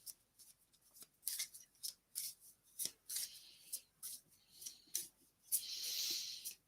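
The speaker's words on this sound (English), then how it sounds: "we'll just give these cards a little bit of a shuffle" Tarot cards being shuffled by hand: a quiet series of soft riffling and sliding bursts in an irregular rhythm, ending with a longer rustling swish.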